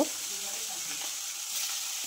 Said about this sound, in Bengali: গরম তেলের মধ্যে ইলিশ মাছের পিসগুলো দিয়ে দেব।